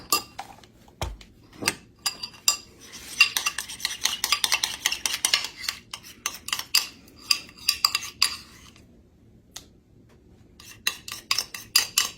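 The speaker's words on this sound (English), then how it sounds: "I think I'm going to put just a tad, another spoonful of sour cream." A metal spoon scrapes and clinks against a dish while spooning sour cream onto a taco pizza, a close run of quick taps and scrapes with brief pauses between scoops.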